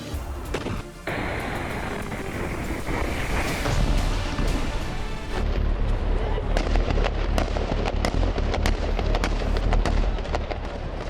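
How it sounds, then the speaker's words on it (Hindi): Sustained gunfire as more than a dozen soldiers fire on a lone fighter sheltering in a stone building, dense crackling bursts and sharp cracks under wind buffeting, loud and continuous throughout. "उसे घेरने के लिए 1 दर्जन से ज्यादा आईडीएफ सोल्जर्स ने फायरिंग की।"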